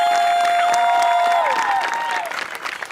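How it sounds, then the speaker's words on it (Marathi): A short burst of audience clapping at an awards ceremony on a comedy show, fairly loud at first and thinning out, with a sustained tone ringing over it. "एकदा जोरदार टाळ्या"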